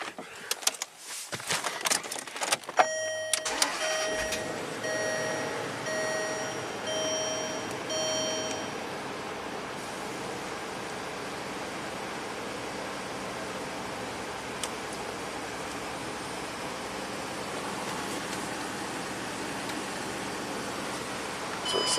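A 2008 Range Rover with its supercharged V8 running and the air conditioning switched on gives a steady, even hum and whir of engine and blower, moderately loud and close, with a few faint ticks early on.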